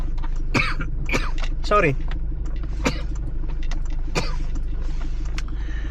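A few short coughs and throat-clearing sounds break up speech, heard close over a steady low engine hum, as if inside a vehicle.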